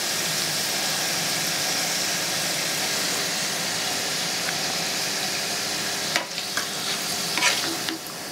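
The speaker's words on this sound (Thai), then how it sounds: "ตักทิ้งไว้แล้วก็ทอดคำต่อไปได้เลยค่ะ" Instant noodles deep-fry in hot oil to become crisp for a tom yum noodle salad, giving a dense, even roar of bubbling oil close up. A few light clinks of a ladle or strainer come near the end.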